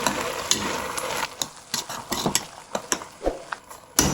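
Sarson ka saag, mustard greens, stirred in a pot: a quick run of irregular scraping and knocking strokes against the pot over a soft sizzling bed, with no voices.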